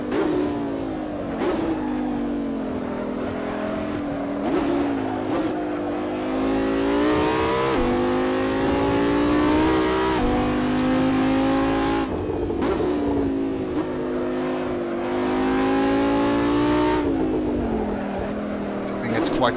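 Audi R8 V10 engine in Assetto Corsa howling loud and close under hard acceleration, with rising revs climbing repeatedly and dropping at each upshift, while someone talks over it throughout.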